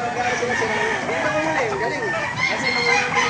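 A red rooster, about eight months old, crows at a busy market stall in Baliuag, its drawn-out call rising and falling amid clucking fowl and steady crowd noise.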